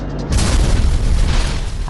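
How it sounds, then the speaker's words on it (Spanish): A huge, loud explosion on an airplane in flight, a deep booming blast that swells suddenly and holds as a heavy roaring rumble. "Una explosión enorme y muy fuerte."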